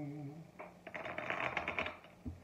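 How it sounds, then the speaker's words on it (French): A deck of playing cards is shuffled up close in a quick burst of riffling flutter lasting about a second, followed by a single soft tap as the deck settles. "On va mélanger et on prendra la carte du dessus."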